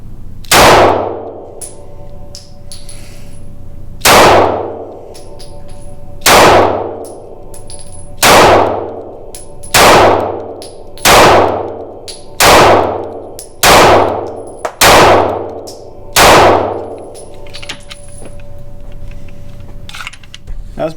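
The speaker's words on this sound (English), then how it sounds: "Let's keep shooting and find out." Repeated shots from a SCCY CPX-2 9mm pistol, about ten sharp reports spaced irregularly one to two seconds apart, loud and close with ringing decay, fired from a ten-round magazine during a malfunction test.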